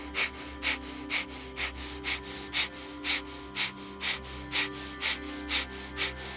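Fast, rhythmic breath bursts pushed out through the nose with belly contractions in a tantric breathing exercise, about two sharp exhalations per second, steady and close, no talking.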